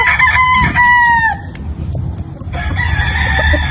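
A Sweater gamecock rooster crows loudly and close, one long cock-a-doodle-doo that breaks off mid-clip, followed by faint clucking and a second, quieter crow from another bird.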